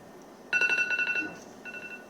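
A mobile phone rings in an indoor interview setting, a bright electronic ringtone in repeated tonal bursts that stops briefly and then resumes, fairly close and clear.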